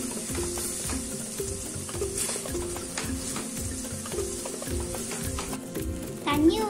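Egg masala sizzles in a frying pan as a spoon stirs and scrapes in a repeated rhythm, steady crackling throughout.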